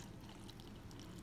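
Melted wax being poured for a bath product restock, giving a soft, steady liquid pour with a low, continuous gurgling stream that stays even and close for a brief moment, no talking over it.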